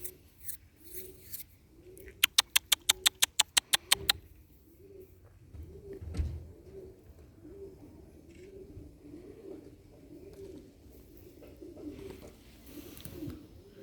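Pigeons coo in a loose repeating rhythm at moderate distance, joined briefly by a quick burst of sharp snipping or clapping clicks early on, with a low thump midway and no talking.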